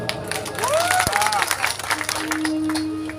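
A crowd bursts into lively applause, many hands clapping together at close range, with a few tonal sounds rising over the clapping.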